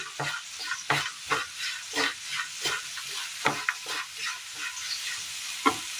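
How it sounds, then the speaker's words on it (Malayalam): Grated jaggery is stirred into a pan for a Kerala sweet, with a spoon scraping and clacking in a brisk repeating rhythm over a light frying sizzle, close and moderately loud. "ഇനി ഇതിലേക്ക് നമുക്ക് ആവശ്യമായ മധുരത്തിനായിട്ട് വെല്ലം ചീകിയത് ഇട്ട് കൊടുക്കാം. മിക്സ് ചെയ്തെടുക്കാം."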